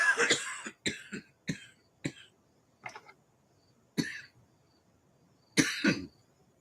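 A person coughs in a series of sharp, separate bursts, loud and close, with short pauses between them and a heavier double cough near the end, no talking.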